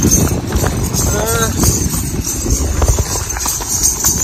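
Rhythmic clip-clop of horse hooves under loud, busy background noise and talking at an award ceremony in Uran, with a short voiced tone early on.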